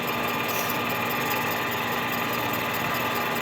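A machining cut trimming the base of a Stihl MS 261 chainsaw cylinder, a loud, steady, dense whirring of the machine with no breaks throughout.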